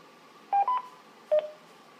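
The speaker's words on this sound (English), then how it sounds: "we should hear our courtesy tone drop" Courtesy tone from a CAT 1000 repeater controller cabled to a Motorola Quantar repeater, dropping as the transmitter is keyed: two quick clean electronic beeps, then a single beep a moment later, alone over low hiss.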